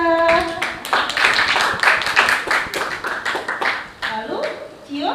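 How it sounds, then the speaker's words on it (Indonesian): Applause in a school classroom, a brisk burst of clapping from a group of pupils that mixes with children talking over it and a teacher's voice near the start and again as the clapping tails off. "beri tepuk tangan untuk Raisya"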